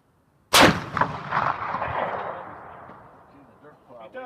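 A single loud, close shot from a 20mm Lahti antitank rifle fired outdoors in winter, a sharp blast that rolls off into a long fading echo; faint voices follow near the end.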